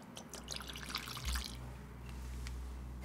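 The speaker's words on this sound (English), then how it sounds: "Let's pour a little." Don Julio Blanco tequila pours briefly into a glass with a soft splashing trickle, close and quiet, settling into low background hum.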